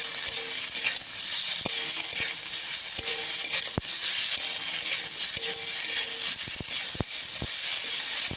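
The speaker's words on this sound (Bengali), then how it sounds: "ভালো করে নাড়াচাড়া করে মশলাটাকে একটু কষিয়ে নেবো, ভাজা ভাজা করে নেবো।" Potatoes and spice masala frying in a pan while being stirred: a constant soft sizzle under a scattering of sharp scraping clicks from the spoon against the pan.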